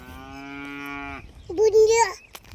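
A cow on a village farm gives one loud, close, drawn-out moo, then a shorter, harsher bellow, with no talking over it.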